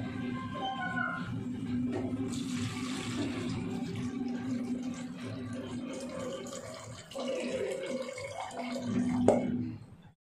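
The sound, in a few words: pouring rice soaking water into pressure cooker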